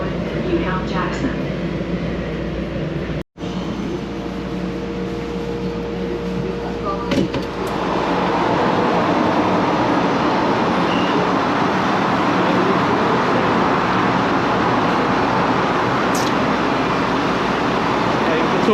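A Miami Metrorail train runs on loud tracks, heard from inside the car as a steady rumble that swells into a broad, roaring rail noise after a brief drop, with people talking now and then.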